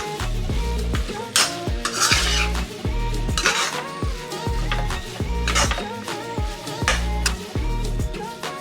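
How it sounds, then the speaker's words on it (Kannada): A spoon stirs grated pumpkin frying in ghee in a pan on medium flame, making rhythmic scraping strokes against the metal about once a second, close and loud over a soft sizzle. "ತುಪ್ಪದಲ್ಲೇ ಇದನ್ನು ಫ್ರೈ ಮಾಡ್ಕೊಳ್ಬೇಕು."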